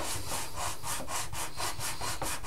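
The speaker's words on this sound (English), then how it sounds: "So, sanding the bottom edge of this is good." Sandpaper of 240 grit rubbed along the bottom edge of a model service station building wall, a quick regular back-and-forth rasping of about ten even strokes, close and fairly quiet, with no talk.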